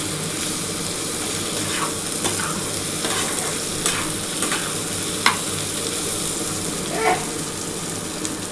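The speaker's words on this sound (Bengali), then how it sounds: "এবার আমি সামান্য অল্প একটু জল দিয়ে দিচ্ছি।" A little water goes into sizzling fried masala for a Bengali lote fish curry with potatoes, giving a steady close sizzle while a spoon stirs and scrapes with occasional clicks.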